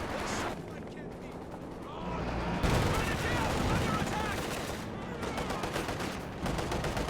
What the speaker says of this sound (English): MG34 is suppressing the engineer trying to cap the south